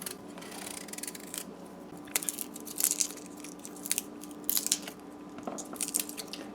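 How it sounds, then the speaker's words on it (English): Mango being peeled by hand for a Guyanese chutney, giving soft irregular scraping and crunchy cutting strokes close by, in short bursts with brief pauses. "So we're gonna peel our mango first"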